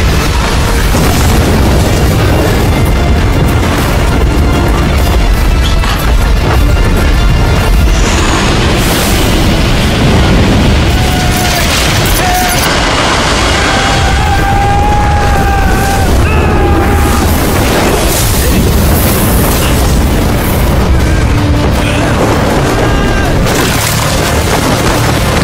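Loud, continuous booming and roaring of an airplane exploding in a film, with crackling bursts and rumbling debris, dense and overwhelming throughout, with a dramatic movie-like mix.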